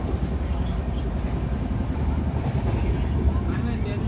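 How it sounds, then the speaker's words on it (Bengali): A Howrah to Raipur passenger train speeds along at night, heard from inside the compartment as a loud, continuous, heavy rumble with steady clatter and no clear pauses. "ট্রেন এখন প্রচণ্ড গতিতে ছুটছে"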